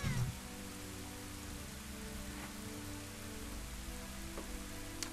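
Rainfall in The Legend of Zelda: Ocarina of Time, a constant close patter of drops over low droning game ambience, with a brief thump at the start and a few faint clicks scattered through.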